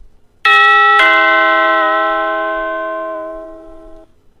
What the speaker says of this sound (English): and Peter rings the doorbell